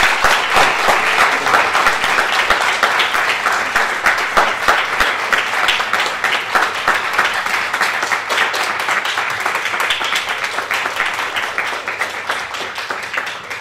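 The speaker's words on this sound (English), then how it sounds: "Let's get a round of applause for Rabbi Michael Davis." A large crowd at a lecture applauds loudly and continuously, thick rapid clapping holding steady for over ten seconds.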